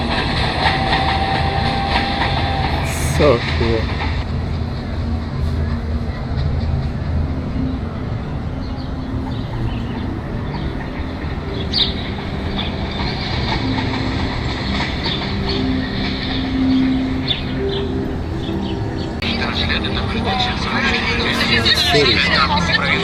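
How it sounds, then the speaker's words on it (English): A train passes through an exhibit at the Osaka World Expo with a continuous rumble amid a crowd's babble and clatter, and a person briefly speaks nearby. "The train's gonna go through."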